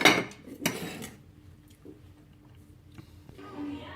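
Dishes and utensils clinking while Thai shrimp papaya salad is plated: a couple of sharp ceramic clatters up front, then softer scattered clinks and scraping, close by with faint room noise.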